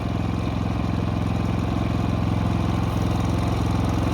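A Predator 5000 inverter generator idles steadily and evenly with no load, a constant low hum with a fine rapid pulse, close by and alone.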